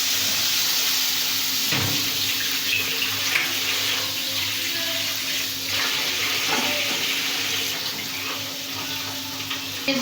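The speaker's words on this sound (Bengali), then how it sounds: "একটু পানি দিয়ে দিচ্ছি।" Water is poured into a hot pan of spiced oil with chilli powder for a taro and hilsa fish curry, a steady close splashing rush mixed with sizzling that runs continuously, without talking.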